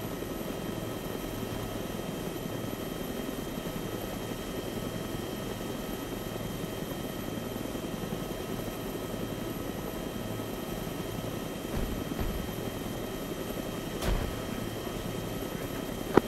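Military helicopters in the video game Arma 3 produce a continuous rotor drone and engine whine, steady and moderately loud throughout, with no voices and only a couple of brief clicks near the end.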